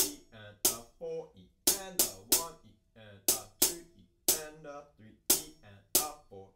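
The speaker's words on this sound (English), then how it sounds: "I'm going to play that up on 10-inch hi-hats today" A hi-hat rhythm played on 10-inch hi-hats runs together with a kick drum, a steady pattern of crisp bright hits over low thumps, close and dry, repeating through the whole stretch without any talk.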